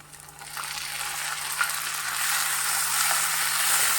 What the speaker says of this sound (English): let it saute for a while, for at least 2 to 3 minutes